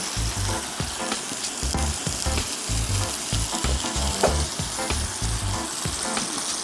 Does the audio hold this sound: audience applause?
no